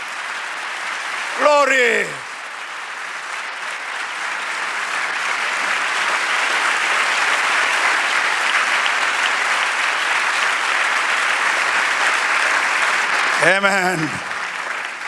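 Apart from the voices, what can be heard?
congregation applauding at a church sermon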